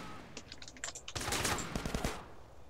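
Gunfire from the video game GTA San Andreas: a series of sharp clicky taps gives way to a dense, loud burst of rapid shots lasting over a second, followed by a few scattered reports.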